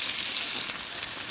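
Sliced onions fry in hot oil with fennel seeds in a pan, a continuous bright hissing sizzle, close and steady throughout the short moment.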